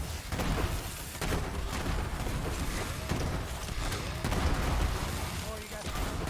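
Dense gunfire and explosions from the video game Borderlands 3 on PS4, a loud continuous barrage of shots and booms.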